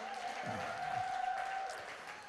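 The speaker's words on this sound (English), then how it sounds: "Come on, keep clapping a little bit." Congregation in a church keeping up steady applause, a continuous moderate patter of many hands with a faint tone beneath.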